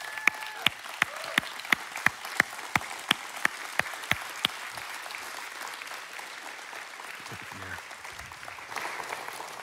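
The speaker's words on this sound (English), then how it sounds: "can we please give her a warm standing Hills Church ovation?" Hills Church congregation giving a standing ovation at a Compassion Sunday service, with steady applause from the room and a few crisp, close hand claps standing out at a regular beat before fading.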